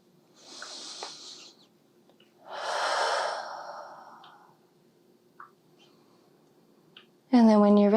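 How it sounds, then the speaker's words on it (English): Slow, audible breaths during a yoga flow, two long exhalations close to the microphone in a quiet room, followed by a brief voice at the end. "Breathing here."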